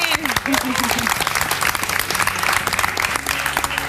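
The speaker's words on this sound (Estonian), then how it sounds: "Teeme talle suure aplausi!" A studio audience at a televised song contest semifinal breaks into dense, sustained applause, loud and continuous, with a speaking voice and some background music running under the clapping.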